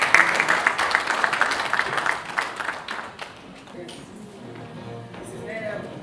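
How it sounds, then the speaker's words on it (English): Audience applause at an International Women's Day award presentation at Nile University: a few seconds of steady clapping that fades, then quieter room sound with a voice speaking. "A resounding round of applause"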